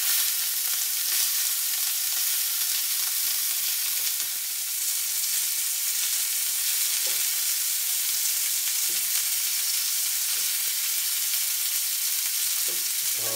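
Hot dogs sizzle on a hot griddle, LA street-vendor style, with a steady loud hiss of frying that runs unbroken throughout, broken only by occasional faint scraping as they are moved.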